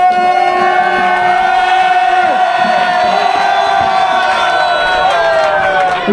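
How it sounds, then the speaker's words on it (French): A crowd at a youth football tournament finals event cheers and applauds in a loud, continuous roar, with sustained voices and whoops layered over steady clapping throughout. "Un tonnerre d'applaudissements"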